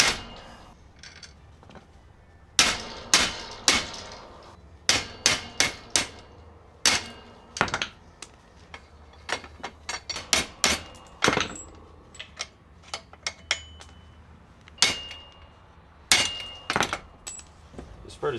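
Bushings are hammered out of bowling machine scrap metal in sharp, irregular metallic strikes, some in quick bursts, others spaced apart, ringing close and loud against a quiet background.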